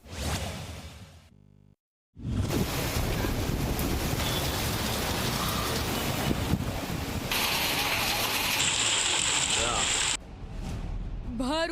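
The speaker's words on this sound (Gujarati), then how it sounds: "ઉનાળુ કમોસમી વરસાદ" Unseasonal summer rain falls in Gujarat as a dense, loud, steady rushing hiss that fills the scene, briefly cut off near the start.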